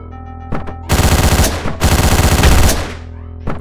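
Loud, rapid bursts of automatic gunfire in the video game Hotline Miami, two sustained volleys of fast repeating shots preceded and followed by a few single shots, close and dominant with no speech.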